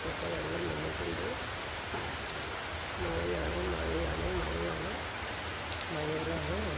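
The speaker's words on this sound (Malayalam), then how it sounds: "മഴ പെയ്തുകൊണ്ടിരിക്കുകയാണ്. നല്ല മഴയാണ്." Heavy, steady rain pours down in Guruvayur, a continuous dense hiss of drops on surfaces filling the scene, with a voice talking over it in stretches.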